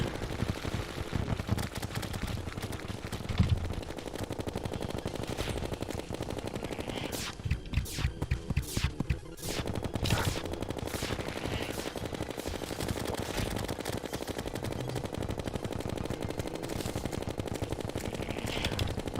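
Rapid, continuous gunfire from weapons in the video game Terraria during a Master Mode endgame fight, dense bursts of shots rattling on without letup, loud and close.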